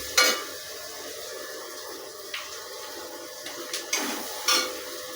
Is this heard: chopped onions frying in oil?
yes